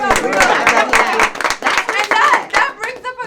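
People clap in quick, irregular bursts of sharp hand slaps mixed with overlapping talk and laughter, loud and close, during a lively group conversation.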